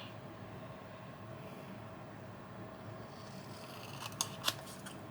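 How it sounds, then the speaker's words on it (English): Scissors cut through junk mail envelope paper: a couple of short, crisp snips near the end, over a steady low background hum, with no one talking. "now we can cut"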